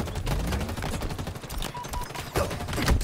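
Close, chaotic gunfight in Halo Infinite, with a dense stream of rapid weapon fire and sharp impacts running throughout, loud and nearly continuous, swelling near the end.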